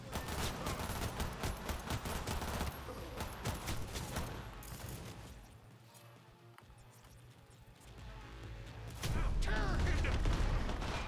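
Gunfire in the video game Cyberpunk, dense bursts of rapid shots that thin out midway, then swell back to loud, continuous firing near the end, with voices talking in places.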